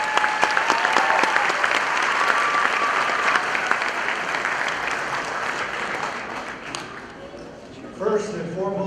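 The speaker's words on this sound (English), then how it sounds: "a round of applause for our superintendent" A commencement audience applauds the school district superintendent, Dr. H.T. Sanchez, with sustained clapping that gradually thins out before a voice begins speaking near the end.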